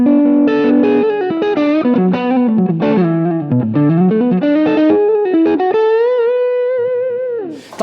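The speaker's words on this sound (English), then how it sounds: "It's my main drive and preamp pedal." An electric guitar plays through a NUX drive and preamp pedal, giving a loud, overdriven tone. Quick melodic runs lead into a long sustained bend that fades out at the end, with no talking.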